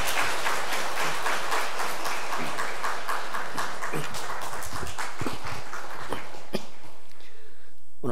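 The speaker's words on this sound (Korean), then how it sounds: "우리 박수로 한번 환영하겠습니다." Church congregation applauding to welcome a guest, a dense burst of many hands clapping loudly and steadily before fading out near the end.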